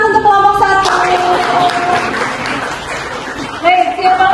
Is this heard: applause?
yes